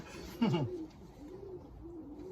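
Racing pigeons in a loft coo close by, one loud burst followed by softer low repeated coos against a quiet background.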